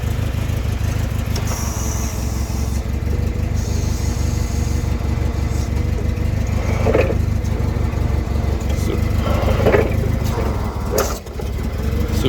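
A Komatsu FG25 forklift engine idles steadily and close by, a continuous low rumbling drone with a few faint clicks and knocks over it.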